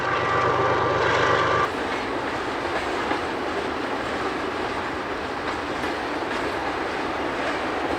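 A long Canadian National freight train rumbles past close by in Jasper, Alberta, wheels clattering steadily on the rails, with a short horn-like tone at the very start.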